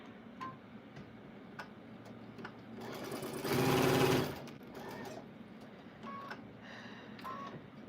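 A sewing machine set to a basting stitch runs in one short burst of rapid stitching, preceded and followed by soft clicks and handling taps, fairly quiet and with no talk.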